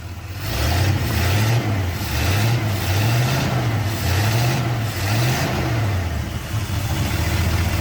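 A 1976 Ford F-250 with a 390 FE V8 runs after carburetor repair, close and loud, its throttle blipped in about seven regular rising-and-falling revs over a rumbling idle.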